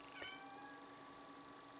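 A house cat gives one short meow close by, then quiet room tone with a faint steady electrical hum continues.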